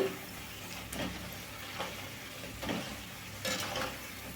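Small pieces of little gourd frying crisp in hot oil, a soft, steady sizzle with faint bubbling and a few light stirring clicks against the pan, quiet and without talk.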